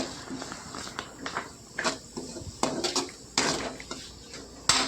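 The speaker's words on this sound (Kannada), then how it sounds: "ಎಲ್ಲ ಫ್ರೈ ಆದಮೇಲೆ ಎಲ್ಲ ಚೆನ್ನಾಗಿ ಫ್ರೈ ಮಾಡಬೇಕು" A metal spoon clatters and scrapes in a pan while egg rice ingredients are stir-fried, irregular clinks and scrapes in quick bursts, close and moderately loud.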